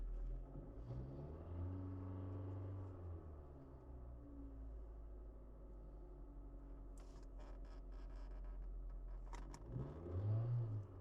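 A Kia Forte engine idles steadily, then is revved several times, the pitch rising and falling in smooth sweeps, close and fairly quiet.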